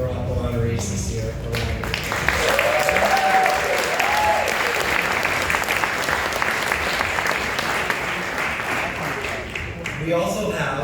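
Audience applause for Silver Apple award honorees at an MCNY awards ceremony, a dense, steady clapping from a large crowd that swells slightly and holds for about ten seconds with no talk over it.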